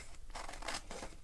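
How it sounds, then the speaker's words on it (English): Paper being cut out roughly with scissors for a collage journal page: three short, crisp snips in quick succession, quiet and close, with no talking. "I thought that I would cut this out roughly"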